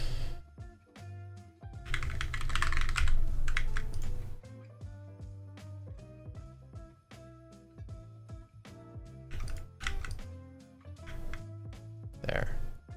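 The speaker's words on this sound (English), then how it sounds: "typing hard" Rapid, uneven clatter of keys on a computer keyboard, with bursts of hard, dense typing between pauses, close and fairly quiet, with a person talking at times.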